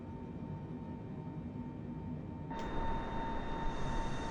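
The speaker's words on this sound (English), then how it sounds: "Pretty smooth takeoff so far." A Boeing 747-8F freighter climbs after takeoff from Indianapolis, its engines a steady broadband roar with a faint tonal whine, stepping up into a brighter, louder hiss about halfway through.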